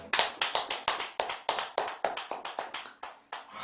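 An audience at a Buddhist temple dharma service claps in unison: about fourteen crisp, evenly spaced claps in a brisk rhythm, close and loud, with no talking over them.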